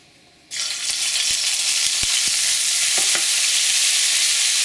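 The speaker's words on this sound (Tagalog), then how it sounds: "At kapag mainit na yung cooking oil, ilalagay na natin yung garlic at yung onion." Garlic and onion hit hot cooking oil with a sudden loud sizzle that stays strong and steady, broken by a few sharp clicks of stirring.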